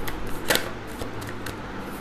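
Tarot cards being shuffled and drawn by hand, close by, with soft papery riffling and a few sharper snaps of cards over a low steady background.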